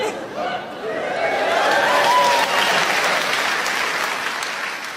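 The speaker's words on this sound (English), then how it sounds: "Why would you clap?" A stand-up comedy crowd breaks into applause, clapping swelling to a steady wash with some chatter and laughter mixed in, fairly loud and fading slightly toward the end.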